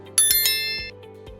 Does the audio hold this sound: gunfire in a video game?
no